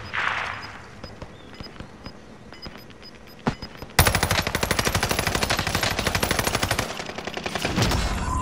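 Gunfire in a co-op video game: a few sparse shots and clicks early on, then a loud, continuous stretch of rapid automatic fire that carries on to the end.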